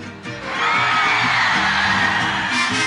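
A mariachi concert audience shouts and cheers on cue, a loud sustained crowd roar swelling after a brief lead-in and holding steady.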